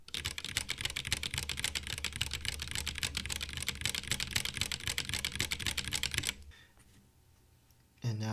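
Rapid, continuous typing on stock Cherry MX Black Hyperglide switches, dense clacking keystrokes heard close up for about six seconds, then stopping into near silence before a brief final sound.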